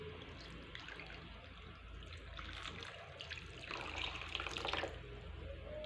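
Water poured into a pot of marinated chicken, a soft continuous splashing trickle heard fairly faintly, swelling briefly near the end, with no talking.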